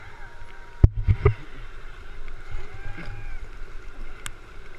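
Paddles splash and knock against a boat on the Chattahoochee River, a few close thumps and sloshes near the start over steady outdoor water and wind noise.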